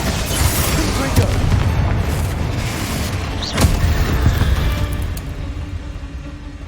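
Confringo fire spell blasting in Hogwarts Legacy near an altar and sarcophagus, a heavy rumbling boom with a sharp impact burst midway over sustained low roar, a voice heard speaking around it.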